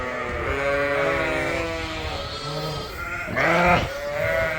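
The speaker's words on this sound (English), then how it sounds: "I'm gonna start tagging lambs to get them out of the jugs" Newborn lambs and ewes bleat inside a crowded barn, with several overlapping drawn-out calls, some near and loud and others farther off, and a louder, harsher bleat near the end.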